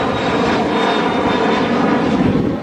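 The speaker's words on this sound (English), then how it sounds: "Oh, plane!" An airplane passes overhead in Turks and Caicos, a loud, broad, steady engine roar that fills the whole stretch without fading, with no speech over it.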